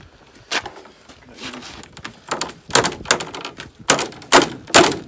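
Boots stepping down on a board to bend damaged metal back on a John Deere 9660 combine, a series of irregular heavy thunks and metallic clunks close by.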